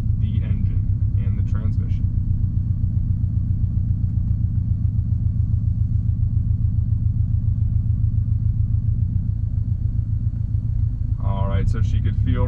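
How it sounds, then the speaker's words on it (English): A 2019 Subaru STI S209 with a manual gearbox pulling away in first gear as the clutch is eased out, steady low engine rumble throughout with a person talking at the start and end. "she's going to slowly let her left foot off the clutch"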